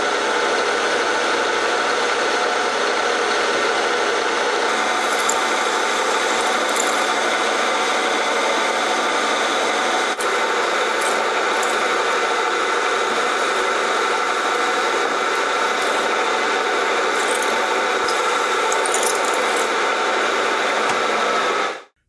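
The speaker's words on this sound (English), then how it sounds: "So the Bridgeport vertical mill" A Bridgeport vertical milling machine in a firearms workshop, used for machining small parts, runs with a steady broadband mechanical hum and a whine that holds at a constant level for the whole span, with no one speaking.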